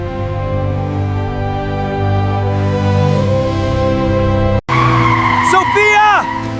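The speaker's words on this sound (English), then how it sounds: "I hear a car." A car pulls up with a loud engine drone, then after a brief cut its tires squeal and skid sharply in rising and falling screeches close by.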